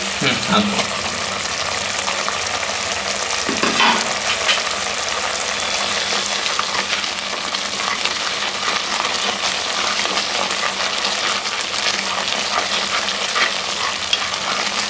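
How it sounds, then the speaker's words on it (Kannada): Powdered biryani masala fries in a pan for a Dindigul-style chicken biryani, a loud, dense, continuous sizzle and crackle with stirring throughout, close to the ear. "ಇವಾಗ ಪೌಡರ್ ಮಾಡಿದ್ದ ಬಿರಿಯಾನಿ ಮಸಾಲಾನ ಹಾಕೋತಾ ಇದ್ದೀನಿ."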